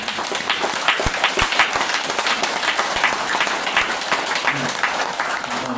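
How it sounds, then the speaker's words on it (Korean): An audience at a seated lecture claps hands together, a dense, irregular patter of many claps, close and steady for several seconds. "손뼉도 한번 쳐보세요."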